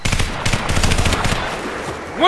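Rapid bursts of machine gun fire in a video game rattle loudly, a quick string of shots that fades before a short rising sound at the end.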